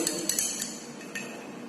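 A glass beaker of solution is stirred, and a rod gives a few light, bright clinks against the glass: a quick cluster early on and one more tap later, all fairly quiet over a soft background.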